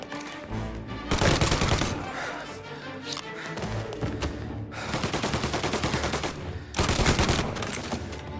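Gunfire in the video game Mafia: Definitive Edition, loud repeated bursts of shots in several dense volleys with brief gaps, mixed with game sounds.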